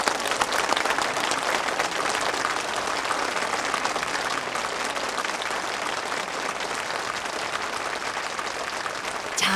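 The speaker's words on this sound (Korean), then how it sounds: "다들 박수!" Sustained applause from a church congregation fills the room, dense and steady for about ten seconds with no voices standing out.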